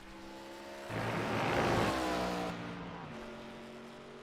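An ARCA race car on a warm-up lap at Watkins Glen, its engine note rising to a loud, close pass around the one-second mark, holding for about a second and a half, then easing off into a steady, fading drone.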